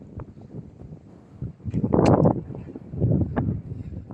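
Strong wind gusts across open rice fields, buffeting the microphone in rough, uneven bursts that swell loudest in the middle and again near the end.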